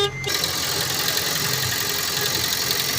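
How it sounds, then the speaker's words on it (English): A Honda Stream car engine turns over and settles into a steady idle, a close, continuous mid-pitched hum with a brief start at the opening and no talk over it. "Just like that, then you start the vehicle."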